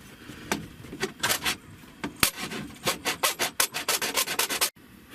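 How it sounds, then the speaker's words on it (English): A part filed by hand during a 1994 Miata car stereo installation: a run of quick, close rasping strokes, sparse at first then coming in a steady rhythmic series before stopping abruptly, with no voices. "a little more filing, and I think we're just about home free"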